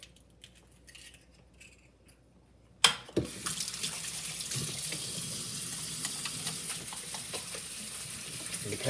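A kitchen tap opens with a sharp knock and water runs steadily into the sink for hand washing, near and constant, after a quiet start.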